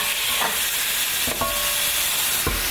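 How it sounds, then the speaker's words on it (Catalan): Pork and free-range chicken sauté together in a pan for a rice dish, giving a steady broadband sizzle with a few brief stirring clatters and no voices. "Ara començam a posar la carn. Dona igual que si posam el poll primer o el magre, ho mesclam tot, que es sofregeixi tot juntet."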